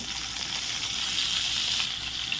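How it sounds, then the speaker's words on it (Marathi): Boiled, stuffed bitter gourds sizzle and fry in 3 to 4 spoons of hot oil in a kadhai, with a steady, dense crackle close up that does not let up. "आता या कढईमध्ये आपल्याला कारली सोडायची आहे"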